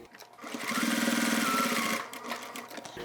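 A sewing machine stitches across fabric for a crossbody bag, a steady fast motor whir with rapid needle pulses building to a sustained run, then easing and restarting near the end.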